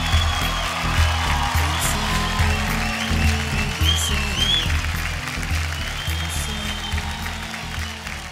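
Audience applause at a televised dance competition show, steady sustained clapping with music-like low tones underneath throughout.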